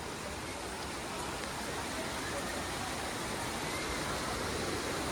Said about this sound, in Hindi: बारिश भी रुकी नहीं है, अभी हो ही रही है रिमझिम रिमझिम।